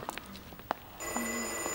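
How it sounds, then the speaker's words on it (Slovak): A telephone rings indoors in a short burst at close range, with a few footsteps and small movement sounds before it. "Telefón, ponáhľaj sa."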